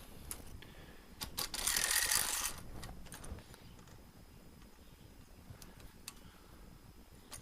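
Clicking and ratcheting of a chainsaw file guide's top adjustment being loosened, with a brief louder scraping burst near the start followed by quieter intermittent ticks and clicks.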